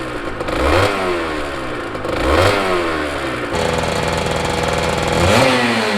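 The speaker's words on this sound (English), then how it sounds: "summon the two-stroke gods. Or as regular people call it, warming it up" A two-stroke motorcycle engine warms up close by, its revs climbing and falling in repeated blips over a rattly, buzzing idle, with no voices.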